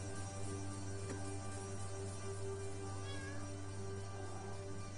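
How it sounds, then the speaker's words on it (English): A cat meows in the video game The Sinking City, a faint feline call set over a steady low ambient hum that runs throughout. "You're a kitty, and you're adorable."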